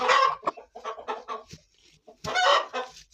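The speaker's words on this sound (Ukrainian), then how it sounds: "не квоктати, а куткудакати" A hen clucks in a series of close, loud, rough bursts, pausing briefly between calls, with a fuller cackle near the end.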